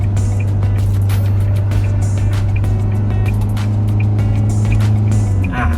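Isuzu MU-X with a 1.9 engine held in second gear while climbing a steep hill, giving a steady, loud low engine drone with constant road and wind noise throughout.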